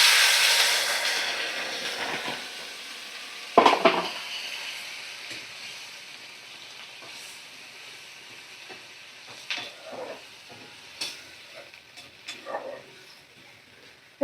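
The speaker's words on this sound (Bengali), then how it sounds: "জল দিয়ে দেব।" Water poured into a hot pan of spiced, sautéed vegetables for a fish curry bursts into a loud, broad sizzle and hiss that gradually fades, with a few clinks of stirring later on.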